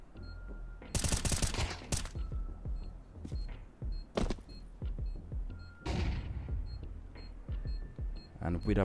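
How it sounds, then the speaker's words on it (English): Rapid bursts of FAMAS rifle fire in a competitive Counter-Strike-style match, sharp cracks clustered early and repeating in short volleys through the clip, with a commentator talking over the shooting. "Nice shot out of Bob XD to try to keep on, to hold on to that FAMAS"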